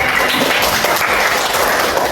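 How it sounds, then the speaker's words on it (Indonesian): A school class claps for a group of classmates, dense continuous applause close and loud from start to finish, with no talk over it. "tepuk tangan untuk kelompok 2"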